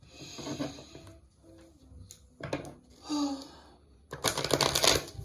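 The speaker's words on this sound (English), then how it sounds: "Let's stir cards." Tarot cards being shuffled in several bursts of crisp riffling and slapping, close by, with short pauses between, the last burst loudest and longest.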